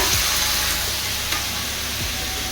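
Cumin paste and ginger-garlic-chili paste fry in oil with tomato in a pan, giving a close, loud, continuous sizzle with occasional soft scrapes of stirring.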